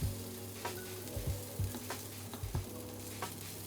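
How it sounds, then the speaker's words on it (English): Zucchini, sweet potato and pumpkin fritters frying over medium-high heat in a pan sprayed with cooking oil, a steady close sizzle punctuated by several soft scraping and stirring knocks from a utensil. "Now I cook these in a pan that I've sprayed with some cooking oil, and that's over medium to high heat."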